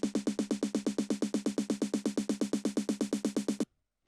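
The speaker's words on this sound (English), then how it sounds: "I wanted my build snare to be straight in this track" A straight, unswung build-up snare drum hits in an even, rapid stream of about thirty identical strokes, loud and alone, then stops abruptly.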